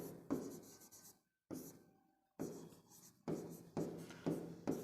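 Chalk or pen scratches across a board or paper during a math lesson, in several bursts of scraping strokes separated by short pauses, close and fairly quiet, with no talking.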